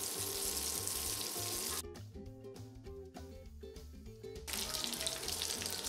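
Bacon and pinhão frying together in a pan make a dense, bright sizzle, briefly dipping to a softer crackle midway before the full hiss returns.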